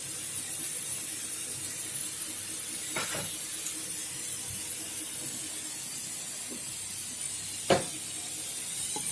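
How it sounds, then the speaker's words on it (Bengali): Cumin seeds and bay leaves tempering in hot oil for a vegetarian banana-flower curry give a steady soft hiss of sizzling, close by, with a couple of brief sharper crackles and spits rising above it. "তেল গরম হয়ে গেলে জিরে তেজপাতা ফোড়ন দিলাম"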